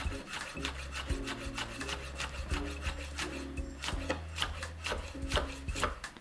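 A knife cuts beef cheek into strips on a board, giving a close, quiet run of rapid repeated slicing and chopping strokes with a steady rhythm and no talk.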